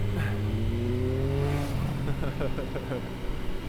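A 2003 Triumph Daytona 955i motorcycle revving while ridden, its engine note climbing through rising pitch sweeps and then dropping into choppy shifts, with brief talk over the engine.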